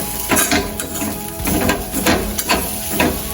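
Stingray crumble (thirukkai varai) fries in a pan under a loud, steady hiss, while a spatula stirs and scrapes in a rough rhythm about twice a second.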